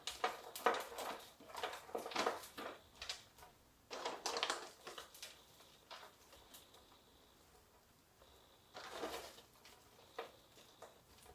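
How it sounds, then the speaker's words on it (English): Orchid potting mix, bark chunks, scooped and dropped into a moss pole while plants sit on it, giving repeated dry rustling, crunching and patter in short bursts close by, with gaps of quieter scratching in between. "backfill the moss pole with the orchid potting mix"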